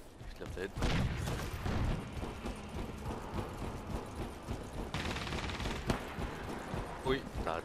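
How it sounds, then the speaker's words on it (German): Sniper rifle fire rings out in the video game Crysis 3 amid other gunfire and game effects, with a sharp report standing out from the busy mix of shots and mechanical noises. "da hat jemand mit dem Sniper geschossen"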